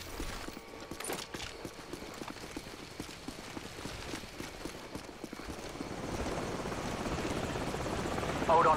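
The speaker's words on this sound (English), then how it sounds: "Hold on, the helicopter's back." Helicopter in the video game Call of Duty 4: Modern Warfare, a rotor drone that builds and grows louder toward the end beneath game sounds and muffled voices.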